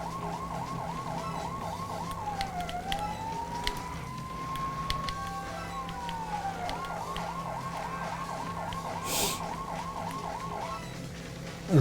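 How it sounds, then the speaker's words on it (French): A wailing police car siren from LEGO City Undercover cycles steadily, breaking into one long slow sweep midway before resuming its fast yelp, heard alone over a low engine hum. "Je coupe la sirène pour passer un peu plus inaperçu."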